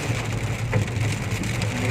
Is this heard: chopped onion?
no